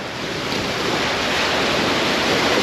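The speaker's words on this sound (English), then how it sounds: "These waves will come through." Ocean surf washing onto a shore, a steady broadband roar of breaking waves with wind buffeting the microphone, building slightly over a few seconds with no voices.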